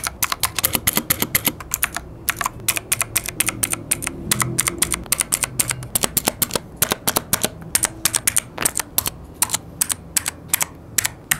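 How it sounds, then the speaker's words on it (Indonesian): Loud, clicky blue-switch mechanical keyboard typing on an MSI Vigor GK50 Elite, with crisp, rapid keystrokes in an uneven, steady stream, close up and alone. "ini akan kita cobain menggunakan yang blue switch. Ini suaranya kira-kira seperti ini."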